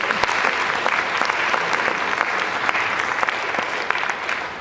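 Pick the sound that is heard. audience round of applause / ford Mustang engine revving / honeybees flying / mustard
audience round of applause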